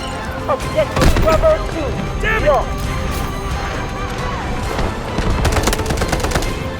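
AKS rifle gunfire in the Delta Force video game, sharp repeated bursts of shots with booms and clatter, close and loud, mixed with voices talking.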